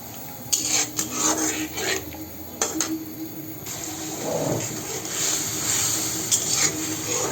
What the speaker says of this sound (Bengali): এখন আমি এই মশলাগুলোকে ভালোভাবে কষিয়ে নেব